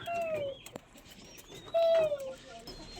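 A pet bird calls out while waiting to be fed, giving a few clear, rising-and-falling whistled cries at close range over soft background noise, with a short pause between them.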